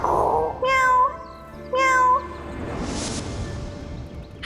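A person playfully imitates a cat's meow during a children's lion-and-cat game indoors, giving two drawn-out meows in a row, close and clear, with a light background murmur following.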